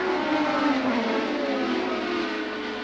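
1984 Formula 2 race cars at Silverstone approaching the chicane, a loud, sustained engine whine that drops steadily in pitch as the cars brake and pass, followed by a lower, continuing drone.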